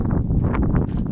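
Low, blustery wind roar pressing on the microphone for a moment, with faint rustling over the rumble.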